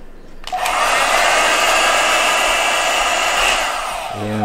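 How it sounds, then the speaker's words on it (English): A heat gun or hot-air heater blowing on the case of a Diesel DZ-1212 watch to soften glue left by a shattered crystal, switching on abruptly into a loud, steady whooshing drone that fades slightly near the end. "I'm using some heater. And I apply heat to the case."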